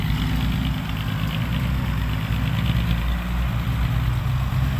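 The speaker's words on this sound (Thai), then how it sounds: "ได้รถไถครับ ได้รถไถมาช่วยชีวิต" A tractor engine idles close by at a muddy event where vehicles get stuck, with a steady, rumbling drone and a faint rhythmic chug throughout.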